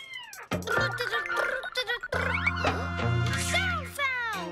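A cartoon kitten meows in a series of bright, rising and falling cries over a musical backing, heard up close.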